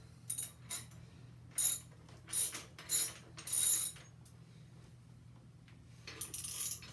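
Bursts of ratcheting clicks come from tightening a bike axle nut on a 2020 Fitbikeco Scumgab BMX build, several short clattering runs spread over a steady low hum, with no talk.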